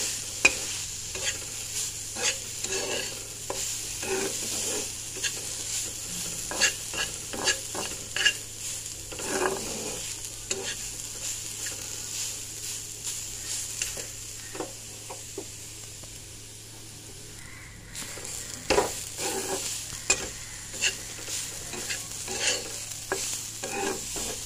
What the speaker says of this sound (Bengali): এই যে এদিকে দুধ বসিয়ে দিয়েছি গরম করতে।